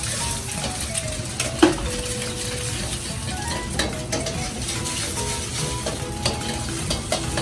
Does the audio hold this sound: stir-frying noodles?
yes